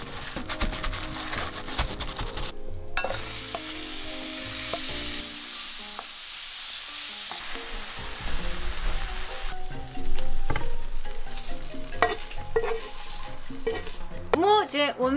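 Eggs sizzle steadily in a hot pan while cooking bibimbap, a continuous frying hiss with occasional crackles and stirring scrapes, loud and close, with no voices over it.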